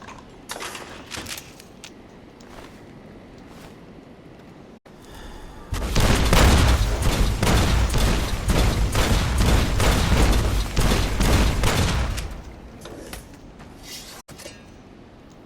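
Missile explosions in Fallout New Vegas, a dense run of loud booming blasts lasting several seconds, framed by quieter rumbling before and after, with no talking.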